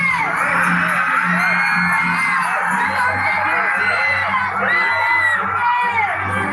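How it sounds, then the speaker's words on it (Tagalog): Grade 10 students shout, whoop and cheer together as a loud crowd at a nighttime event at Sawangan Park, Embarcadero de Legazpi, a continuous dense wall of young voices lasting the whole stretch. "Sigaw-sigaw sa likod! Grade 10 students!"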